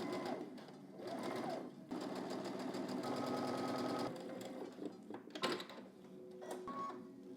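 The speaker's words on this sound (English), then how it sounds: "going to head to the machine and we're going to lift the pocket bags up, both pieces, and we're just going to stitch along here" Sewing machine stitching along two layers of pocket bags, a steady fast mechanical whir with rhythmic needle clatter running continuously in bursts, close and fairly loud, with brief pauses between runs.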